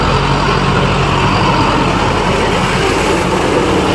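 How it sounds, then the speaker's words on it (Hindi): Kubota MU5502 4WD 55 hp tractor pulling a 6-foot rotavator while puddling a paddy field, its engine a steady loud close drone with a low rumble and no pauses. "पीछे 6 फीट का रोटावेटर है इस ट्रैक्टर में, और देखिए कितनी स्पीड से ये ट्रैक्टर चलता हुआ"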